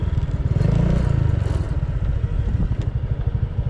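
A motorcycle is being parked outdoors at a mall parking area, its engine idling with a steady, close, rumbling putter throughout, joined by faint clatter and scraping from the surroundings.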